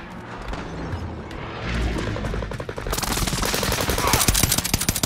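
Automatic and single gunshots crackle through a Call of Duty: Modern Warfare Warzone resurgence duos match, sporadic at first, then growing into dense, loud bursts of rapid fire with heavy impacts toward the end.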